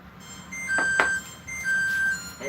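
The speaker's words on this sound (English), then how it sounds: "And there's my timer." Kitchen oven timer beeping while bread bakes in a home oven, a few short electronic tones and steady held beeps, fairly clear over a quiet room with faint background hum.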